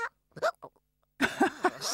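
A cartoon character with hiccups after gulping bubbly lemonade gives a few short, abrupt hic sounds, close and separated by silence, followed by a brief vocal burst.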